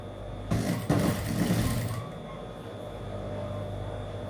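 A sewing machine stitching fabric for a kurti, a brief fast mechanical whir lasting about a second and a half, fairly close, then fading to a quiet room with no talking.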